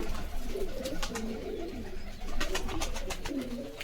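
Several pigeons kept for sale coo steadily in low, throaty rolls, overlapping near and far with a constant loft hum and occasional clicks.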